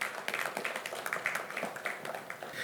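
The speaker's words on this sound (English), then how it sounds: "You deserve a big round of applause." Audience applause at a graduation ceremony for an AI and ML diploma program, a faint, distant patter of clapping hands with an uneven rhythm.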